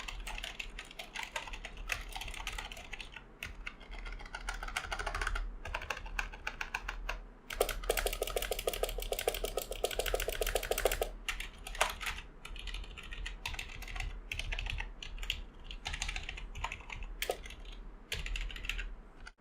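Typing on a Tt Esports Challenger Duo RGB keyboard with membrane rubber-dome switches: a continuous, close stream of soft, muffled keystrokes at a brisk, uneven pace, with a denser flurry partway through.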